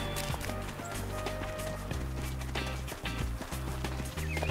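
Galloping horse hooves in the video game Kochane Zwierzaki: Konie i Kucyki, a steady rapid clip-clop rhythm with game music underneath, close and continuous throughout.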